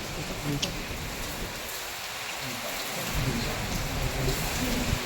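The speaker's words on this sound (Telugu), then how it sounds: "పడుతుంది ఫుల్ అంటే ఫుల్ వర్షము ఈ గాలిగ్గిన బయటికి వెళ్తే చాలా డేంజర్" Heavy rain driven by strong wind pours down in a dense, unbroken roar, with a voice talking over the downpour.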